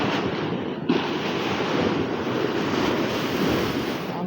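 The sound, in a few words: big ocean waves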